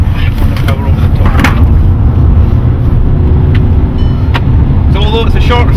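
A race car engine drones continuously at Knockhill racing circuit in Scotland, loud and steady throughout, with someone talking over it.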